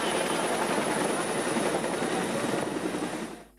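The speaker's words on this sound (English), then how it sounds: "The Sri Lanka Air Force dispatched an SLAF Bell 212 helicopter to douse the massive fire." Sri Lanka Air Force Bell 212 helicopter fighting a massive fire, its rotor and engine roaring loud and steady at close range, with no speech, before the sound drops off abruptly at the end.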